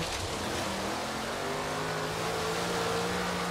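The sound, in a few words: Ford GT twin-turbo engine and blow-off valve in Forza Horizon 3 video game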